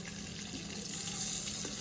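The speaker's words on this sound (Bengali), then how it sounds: "এবার আমি মাছটাকে উল্টিয়ে দিব ইলিশ মাছ খুব বেশি ভাজব না" Hilsa fish pieces fry in oil in a pan, giving a steady, continuous sizzle close to the mic that swells slightly toward the end, with no voices.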